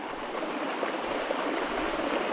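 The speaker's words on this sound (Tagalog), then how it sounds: "Tapos yung daanan ng tubig, makikita nyo naman, buhay na buhay siya." Water runs along a lively stream channel, producing a soft, steady rushing hiss with no pauses and no voices.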